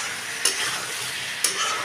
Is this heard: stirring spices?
yes